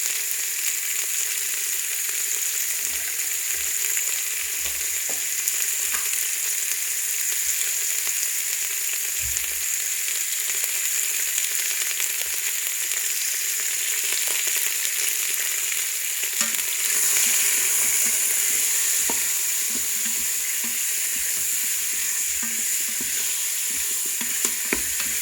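Beef browning with onion and salt in a Ninja multi cooker gives a steady, hissing fry, with occasional soft stirring taps and low thuds under the constant sizzle.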